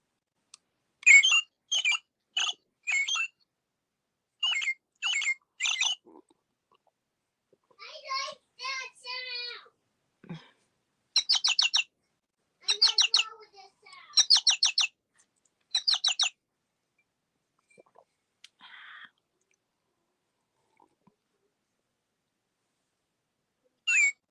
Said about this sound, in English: Has a bunch of different bird sounds on it.